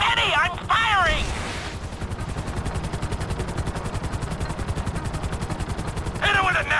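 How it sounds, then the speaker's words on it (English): Rapid automatic gunfire in GTA 5 during a heist: a long, dense burst of evenly spaced shots, loud and close, with shouting voices before and after. "Get them in my firing line! Steady! Steady! I'm firing!"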